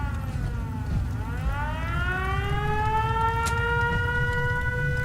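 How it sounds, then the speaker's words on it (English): Wailing civil-defense siren in the video game Fallout 4 spinning up from a low pitch and rising into a sustained, steady howl, loud over a rumbling background. "Who the fuck turned on the siren?"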